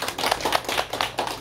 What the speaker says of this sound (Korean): 박수로 맞이합니다.